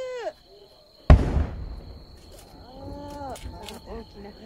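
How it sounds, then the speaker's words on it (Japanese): A single loud firework boom bursts out and rumbles away at the 47th Takasaki fireworks festival, followed by faint crackling while people talk nearby. "花火がこれはまだまだ上がりますよ。"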